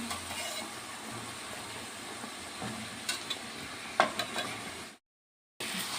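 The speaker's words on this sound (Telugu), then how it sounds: "బీరకాయ ముక్కలు మీరు సన్నగా కూడా తరుక్కోవచ్చు. నేను మీడియం సైజ్ ముక్కలుగా వేస్తున్నాను." Medium-sized ridge gourd pieces frying in a pan for curry give a steady, close sizzle with a few crackling pops. The sound breaks off into brief silence near the end, then the sizzle resumes.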